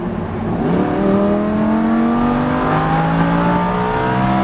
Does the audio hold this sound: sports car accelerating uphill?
yes